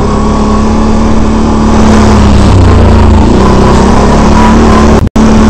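2010 Can-Am Renegade 800R XXC ATV driving along a trail, a loud, steady engine drone with small pitch shifts as the throttle changes, heavy and close, with a brief dropout near the end.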